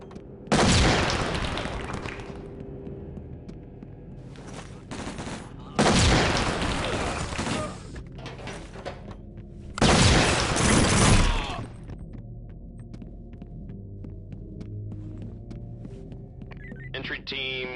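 Flashbang grenades in the SWAT 4 video game, with three loud, harsh blasts a few seconds apart, each followed by crackling noise, over a steady low hum and occasional voices.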